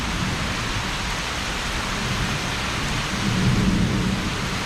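Severe evening thunderstorm in Southeast Michigan: loud, steady heavy rain with a deeper rumble of thunder building near the end.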